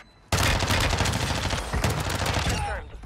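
MP7 submachine gun fire in Call of Duty Warzone: a loud, continuous rapid-fire burst of close shots lasting about two and a half seconds, then a brief tail.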